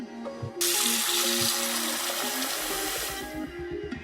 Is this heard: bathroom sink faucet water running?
yes